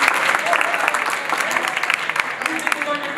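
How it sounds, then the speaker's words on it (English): Audience at a school event applauding a student, dense steady clapping from many hands filling the room throughout. "Round of applause for him."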